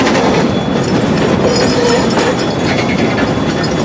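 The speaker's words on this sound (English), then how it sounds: "Sliding wheels." Loud, steady rumbling and grinding of train wheels sliding on the rails under braking, a continuous harsh metallic roar with faint squeal tones and no pauses.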